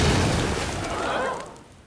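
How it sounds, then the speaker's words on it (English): A cartoon explosion booms in an animated Johnny Test episode, a loud broad blast that rumbles and slowly fades over about two seconds. "It was so short, and it had an explosion!"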